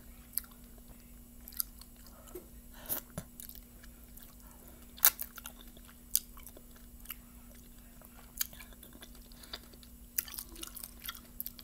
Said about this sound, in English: cheesy little dumplings.